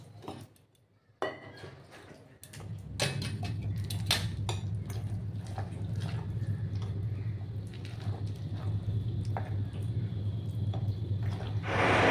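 A spoon stirs thick potato paratha batter in a bowl, steady wet scraping and soft squelching with occasional sharp clinks against the rim, close and continuous after a brief quiet start.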